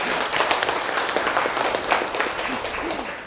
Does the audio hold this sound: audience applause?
yes